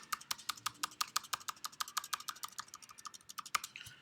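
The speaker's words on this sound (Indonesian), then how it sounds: "kita mengetik nama nanti seperti ini" Fingers type rapidly on a computer keyboard. Close, crisp keystrokes come in a quick, fairly even stream, with no voices over them.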